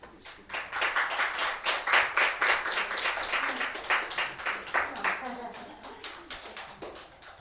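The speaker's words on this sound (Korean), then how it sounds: "여러분 크게 환영의 박수를 주고 있습니다" A church congregation claps in welcome during a gift presentation, a dense, fairly close round of applause that swells and keeps a quick rhythmic patter for several seconds before thinning out.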